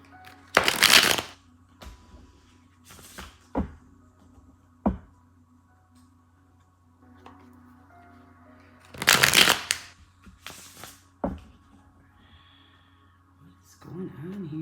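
Tarot cards riffled and shuffled in several bursts, with two long loud shuffles and shorter taps and shuffles between them, close and clear, with a brief voice near the end.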